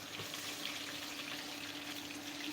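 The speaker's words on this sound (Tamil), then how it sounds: "நெத்திலி ஃப்ரை லைவாக லைவா ட்ரை பண்ணுறோம்" Anchovies (nethili fish) frying in hot oil on a live Sunday cook, a steady faint crackling sizzle held throughout with no talk over it.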